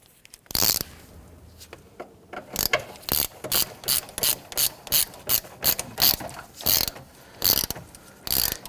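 A ratchet wrench snugs down the battery hold-down bar on a 2011-2014 Kia Sorento during knock sensor replacement, giving a steady series of about a dozen crisp, close clicking bursts with no voices.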